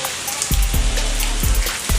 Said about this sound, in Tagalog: Gawa ng umuulan.